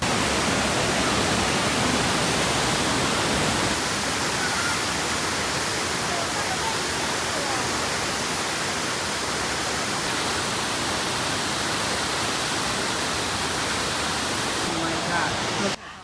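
Large waterfall on a mountain climb in October, a loud continuous broadband roar that fills the whole stretch with no letup, heard close by.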